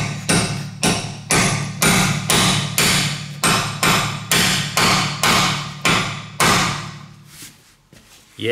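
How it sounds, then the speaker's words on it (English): Loud, regular metallic hammer blows on a stripped bolt in a brake disc strike about twice per second, each ringing briefly, close by, slowing and stopping near the end. "then a little bit hammering"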